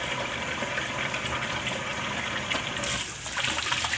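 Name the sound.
washing hands under running tap water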